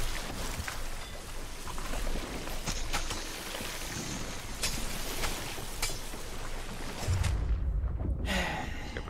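Steady rain hisses over a stormy sea in the pirate game Sea of Thieves, with a heavy low rumble of thunder swelling near the end; no talking is heard.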